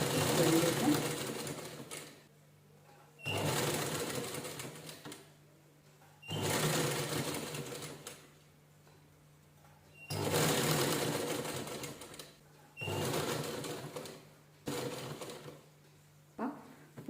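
A sewing machine stitches a cushion cover made from blouse fabric pieces, running in several bursts of a few seconds each with short pauses between, close and clear, with a steady low hum underneath.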